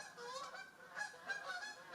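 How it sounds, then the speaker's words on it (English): Geese honk while flying overhead, several rising calls spaced irregularly and fairly distant, heard alone against a quiet outdoor background. "there's geese flying overhead."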